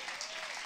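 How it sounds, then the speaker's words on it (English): A church congregation claps together during a sermon, a short burst of dense, steady applause heard fairly faintly. "Clap like you believe that's true."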